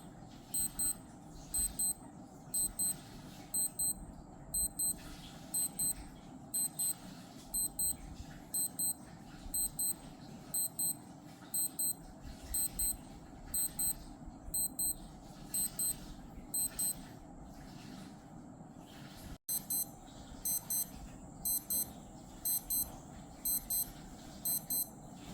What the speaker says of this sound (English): In terms of alarm sound, the Skmei 1123 has a longer alarm duration, but the sound is a bit quieter compared to the F-91W.